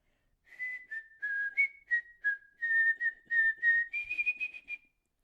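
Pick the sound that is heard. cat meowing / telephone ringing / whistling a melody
whistling a melody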